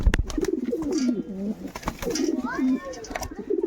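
Spotted doves and pigeons coo in a loft, soft repeated low coos in a steady rhythm close by, with someone talking over them and a few brief chirps and rustles.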